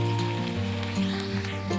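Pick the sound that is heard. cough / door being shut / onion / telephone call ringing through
onion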